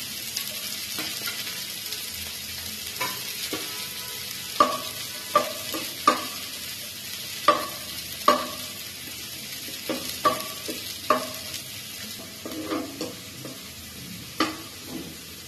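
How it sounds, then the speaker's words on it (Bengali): Chopped onions hit hot oil and fry with a steady sizzle, broken by sharp clicks and scrapes of a spoon stirring the pan at irregular intervals, close and moderately loud, with no one talking. "তেল দিলাম, এদিকে আমার পেঁয়াজ কাটা আছে সেটা আমি দিয়ে দিলাম।"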